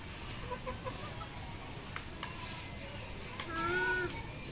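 Chickens cluck in a few short bursts, then one louder, drawn-out call near the end, over a steady outdoor background hiss.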